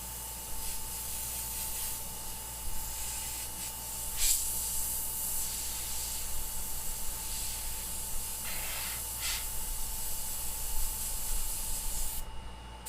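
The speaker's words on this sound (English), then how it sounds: "I can give it one of those old school airbrush clouds." An airbrush hisses steadily as it sprays soft cloud shapes of paint onto a skull, a continuous close airy spray with a few brief louder bursts.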